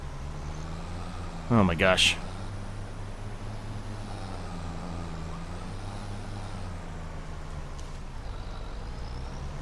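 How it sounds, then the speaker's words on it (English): A cement truck rumbles along in the Farming Simulator 25 video game, its steady low engine drone running throughout, broken near the start by a short sharp burst of brake hiss, while a person talks over it. "It's Byron the cement truck."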